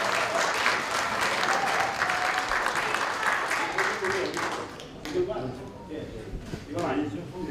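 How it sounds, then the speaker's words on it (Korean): Sustained applause welcomes the mayor of Yongin at a press conference announcing a citizen-owned pro football club. The clapping is loud and dense from a large crowd in a hall, then thins and fades over the last few seconds. "큰 박수로 이상일 용인특례시장 맞이해 주시기 바랍니다."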